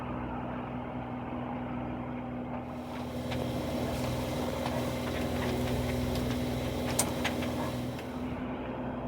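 Steady low engine drone and hum of a sailboat motoring under power in the Gulf of Ajaccio, Corsica, continuous throughout with light ticking and water noise, no talking.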